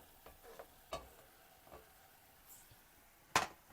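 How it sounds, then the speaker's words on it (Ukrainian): Potato pieces cooking in a pot with softened carrot and onion and being stirred: faint, sparse scrapes and clinks from the spoon, with a brighter knock near the end over quiet background hiss. "І також трішечки її підсмажу, під, підтушкую. Може так виночок 5, помішуючи."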